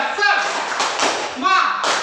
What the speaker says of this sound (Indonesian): Satu lagi ya, tepuk semangat ya.